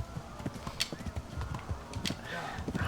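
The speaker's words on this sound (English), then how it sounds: "Ride like you mean it, horse." A horse in Kingdom Come: Deliverance galloping with quick, rhythmic hoof clip-clops close by, moderately loud, mixed with creaks of tack and light background sound.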